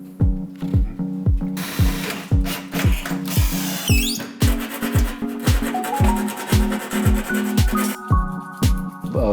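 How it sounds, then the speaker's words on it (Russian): A metal ceiling profile corner is filed by hand, and the rasping strokes repeat in a quick, even rhythm. The scraping is close and clear, with no talking. "Обработали углы напильником"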